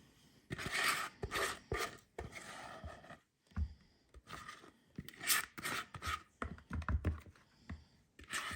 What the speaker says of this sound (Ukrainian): додаємо всі наші жовточки з цукром. Просто перемішуємо.